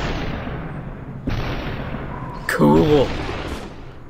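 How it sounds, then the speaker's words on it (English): Assault rifle fire in the video game Superhot: a couple of abrupt gunshot cracks over a low rumbling game background, with a player briefly exclaiming right after the second shot. "I got an assault rifle now."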